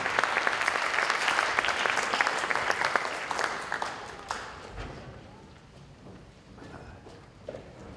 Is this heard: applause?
yes